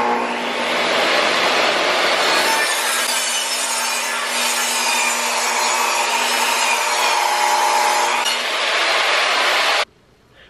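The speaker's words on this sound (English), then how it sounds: "And we're gonna dado that out so it sits over after, like so." A dado is cut into a 2x4 for window trim: a loud, steady, close-up roar of a blade chewing through the wood, rising slightly in pitch partway through, runs for nearly ten seconds before stopping abruptly.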